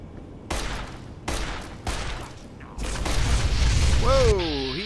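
Bursts of enemy gunfire in Fallout New Vegas, several loud rattling volleys separated by short gaps, then a sustained blast with a warbling whine near the end.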